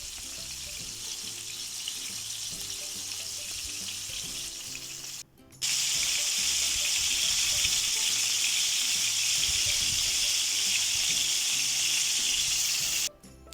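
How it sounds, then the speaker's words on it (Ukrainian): Loud, steady sizzling of chicken wings frying over high heat in a hot pan, a continuous crackling hiss with a brief break partway through. "І на великому вогні потрібно обсмажити наші крильця."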